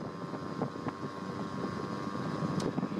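A Honda Urban Express scooter, running a bit rich after a carburetor cleaning, drones steadily under way, its small engine humming continuously with wind rush over the microphone on a cool day.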